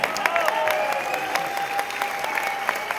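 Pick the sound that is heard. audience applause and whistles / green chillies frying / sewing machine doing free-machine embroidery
audience applause and whistles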